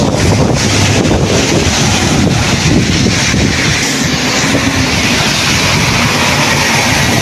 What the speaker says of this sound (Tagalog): Bagyo dito.